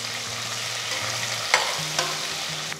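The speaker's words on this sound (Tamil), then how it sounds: "வெங்காயம் கொஞ்சம் கோல்டன் கலர் வர வரைக்கும் இதை நல்லா வதக்கணும்" Thinly sliced onion and slit green chillies sauté in hot oil with a continuous close sizzle, with a few spatula scrapes and taps against the pan while they are stirred, and no talk.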